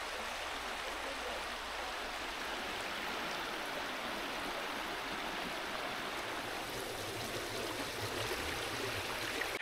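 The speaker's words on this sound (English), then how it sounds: "a beautiful walk up through the woods with the brook running through the middle" A brook runs through the middle of woods near Meltham, giving a continuous close rushing and gurgling wash of water, steady and unbroken.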